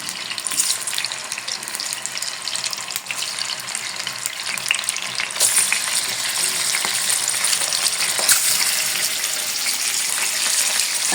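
Meat fries in a hot pan for a pepper stew, a steady dense sizzle with crackling spatter that swells louder midway and keeps going, close and continuous, with no talking.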